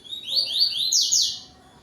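A yellow-billed coleiro sings a bright, high tui-tui call: a run of rising whistled notes, quite close and clear against a quiet background, fading out near the end.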